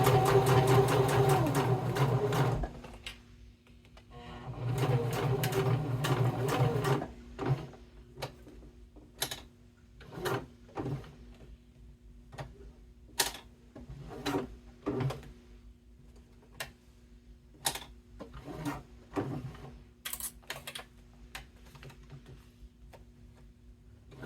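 A sewing machine stitches a bifold wallet with a few loud runs of rapid, dense whirring and clatter early on, then sparse clicks and single stitches with quiet gaps between them.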